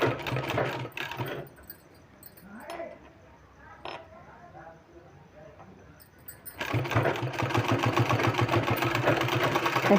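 Sewing machine stitching a cotton kurta, with a short burst near the start, a quieter handling stretch, then a steady close run of stitching to the end; faint talk may sit underneath.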